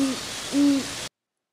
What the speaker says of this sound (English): It's the call made by a great horned owl.